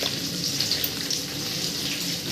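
Green chillies, curry leaves, coriander leaves, shallots and mustard seeds fry in hot oil in a pan for a blood fry, giving a close, continuous, even sizzle and hiss with no talking.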